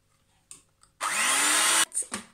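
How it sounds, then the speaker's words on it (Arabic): An electric mixer whips cream for an eggless tiramisu, whirring loudly and steadily for nearly a second after a few faint clicks, followed by brief bursts as it stops and restarts. "غادي نبدا نضرب هاد البانا ديالي"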